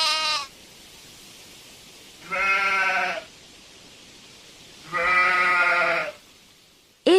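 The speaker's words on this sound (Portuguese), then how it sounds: "Bem vês que isto não é um carneiro, é um bode." A goat bleating in three loud, wavering calls, each lasting about a second, separated by quiet pauses, close and alone.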